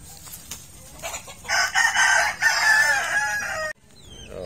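A young rooster, a stag that still has its spurs, crows once in a long, strained call near the microphone, with other fowl faint in the background.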